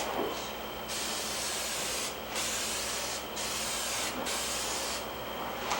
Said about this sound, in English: we're just going to spray it for adhesion to the slate